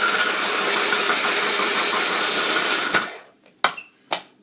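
Food processor whirs loudly and steadily while chopping dry ingredients for a dill aioli, then cuts off, followed by a few short clunks and taps.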